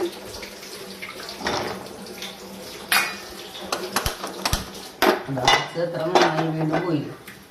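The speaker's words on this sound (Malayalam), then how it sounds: "അടുപ്പിലേക്ക് ചട്ടി വെച്ചു" A pot is set on a stove with sharp metallic clanks and knocks of cookware and utensils, interspersed with light water sounds and a few scattered clatters.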